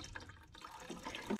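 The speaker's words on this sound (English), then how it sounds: "Prepping the water for the rice." Water is poured and handled at a campsite while preparing to cook rice, a faint trickling, dripping sound close by with small splashes.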